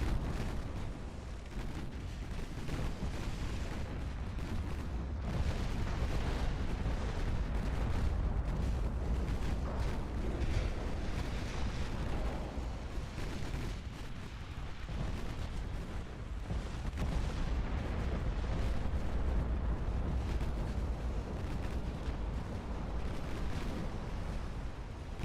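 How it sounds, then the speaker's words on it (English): Naval guns fire in the video game Ultimate Admiral Dreadnoughts, a dense, continuous rumble of booming shots and blasts overlapping for the whole stretch with no clear gaps. "A lot of rounds going down range."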